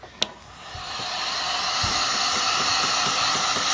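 Hand-held hair dryer drying a second coat of paint on an upcycled dollar-store glass jar: a short click, then a steady, loud blowing whoosh that builds and holds without any talk.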